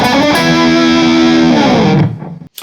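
A distorted electric guitar plays bars 7 and 8 of a song: a quick picked lead-in, then a loud sustained vibrato double-stop that slides down and cuts off abruptly, with no voices.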